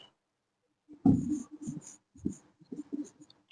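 Chalk or marker strokes on a board as a teacher writes out the next question in a maths lesson, a few short scratchy bursts close by with no talk over them.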